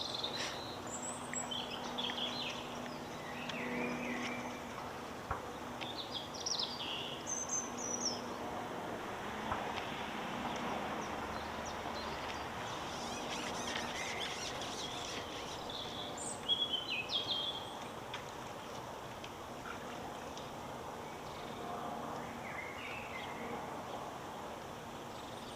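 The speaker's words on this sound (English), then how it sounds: "If you can hear the birds clearly enough" Birds call and sing intermittently in an open outdoor setting, short chirps and trills scattered over a steady hum of insects and low background noise, fairly faint and distant with no talking.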